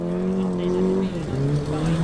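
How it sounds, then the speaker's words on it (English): Citroen Saxo driven hard in a field at a classic car show: loud, close engine revving with a steady pitch that drops and climbs again, plus rough tyre noise. "There seems to be a Citroen Saxo getting ragged in a field."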